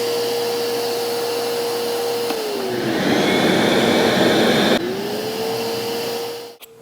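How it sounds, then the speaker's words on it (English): A StealthSonic vacuum runs at full peak with a steady whine that sags lower as the airflow roar grows, then climbs back to its earlier pitch before the motor winds down at the end. "That's what it sounds like when it is at full peak."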